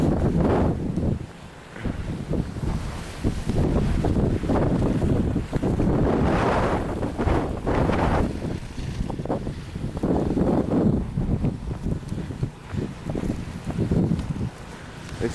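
Strong wind in a cold snow storm, roaring in heavy gusts and buffeting the microphone continuously, loud and close throughout.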